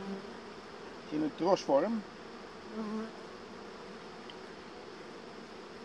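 Honeybees in a beehive hum steadily throughout, a close, continuous buzzing drone from bees hanging in a cluster beneath the frames, with someone briefly speaking over it.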